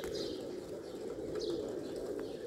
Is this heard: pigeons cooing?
yes